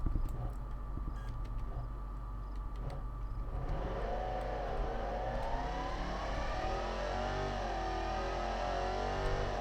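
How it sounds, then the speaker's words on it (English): A Dodge Charger Hellcat in BeamNG.drive accelerates hard, its rising supercharger whine building over a deep, steady engine roar that continues to the end. "I love that sound. That supercharger whine."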